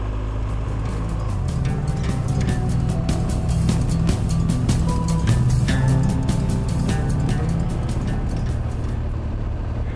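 A car drives a stony dirt track near Zamora, heading toward Sad Hill, with a steady, loud engine drone and rumbling tyre noise. Brief crunches and rattles from the stones run through the drive, and no one speaks.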